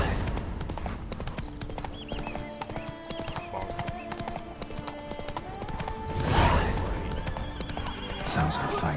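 Horse galloping in The Witcher 3 video game, rapid rhythmic hoofbeats with whinnies and a neigh near the end, layered over game music and effects, with brief voice lines.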